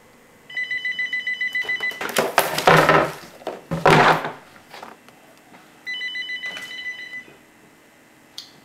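A telephone rings in a video store, two bursts of rapid electronic trilling separated by louder knocks and handling clatter, fairly close and without talk.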